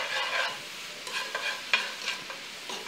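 Diced organic Fuji apple cooks in a pan with pork, a gentle steady sizzle punctuated by several light scrapes and taps of stirring, close by with no talk.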